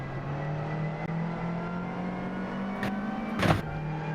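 A race car in a sim racing video game with a steady, thin engine whine that holds a constant pitch, then climbs slightly, and ends in a short burst of higher-pitched noise, with no talking.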